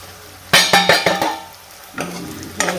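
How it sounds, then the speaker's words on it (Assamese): Spices frying in a pan while cooking a Kuchia eel dish: a burst of loud sizzling with several quick stirring scrapes, a pause, then two shorter sizzles as the mix is turned again. "এইখিনি ভাজি লওঁ এতিয়া গোটেইখিনিকো।"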